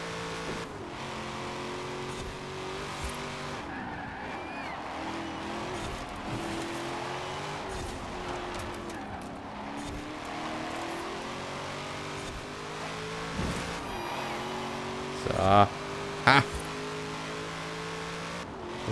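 A Chevrolet Camaro engine in the Forza Horizon 4 racing game drones and revs steadily through a sustained lap, its pitch rising and falling with gear changes, joined near the end by brief sharp tire or impact noises.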